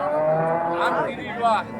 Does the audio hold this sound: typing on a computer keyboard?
no